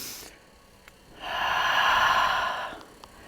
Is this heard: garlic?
no